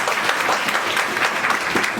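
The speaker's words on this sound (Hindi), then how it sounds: "ताली बजा सकते हो।" An audience at a personality development class claps steadily, a dense, sustained burst of applause from a room of people with no pauses.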